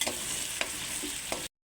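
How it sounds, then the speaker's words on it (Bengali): Onions frying in oil in a pan for chicken curry, a soft steady sizzle broken by a few brief stirring clicks before cutting off. "ভালো করে পেঁয়াজটা একটু লাল লাল করে ভেজে নেব।"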